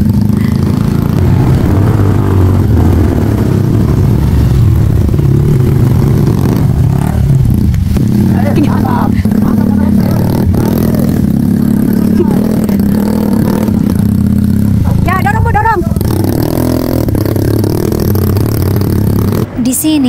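A motorcycle stuck on a rough forest road in a remote area is pushed while its engine revs continuously, with clattering and scraping from the bike and loud voices talking over the din.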